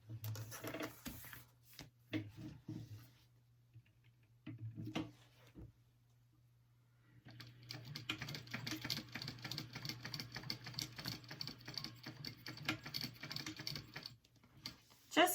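Sewing machine stitching down pieces on vinyl for a bag, with a few short bursts of stitching, a quiet pause, then a long steady run of rapid mechanical needle chatter.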